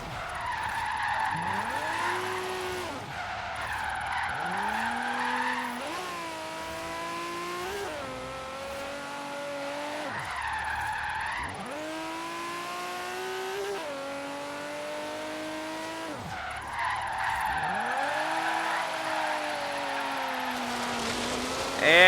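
Drifting car in Forza Horizon 3 with a four-rotor engine, wailing engine pitch rising and falling through repeated revs as tires squeal and skid, ending in a spin-out, loud and continuous.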